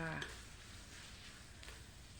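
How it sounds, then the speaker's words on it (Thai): Red curry paste sizzles in a pan during stir-frying for a pork rib dish, a steady soft hiss of frying with a faint stirring scrape near the start. "เอาพริกแกงมาผัดจ้า"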